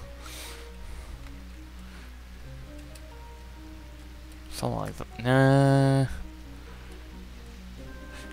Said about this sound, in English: More rain, huzzah!